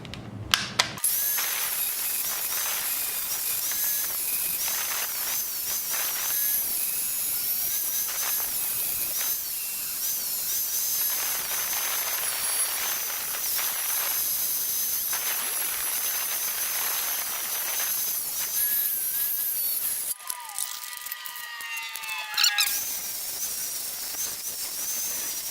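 A tool cuts a notch into a metal tone ring for a Jeep JK Artec 1-ton axle setup, producing a loud, continuous high-pitched hissing grind that cuts off briefly near the end before a short burst of rattling; no voices.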